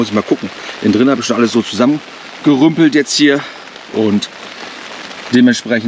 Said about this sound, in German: Und man hört schon im Hintergrund, es regnet, es ist Dauerregen.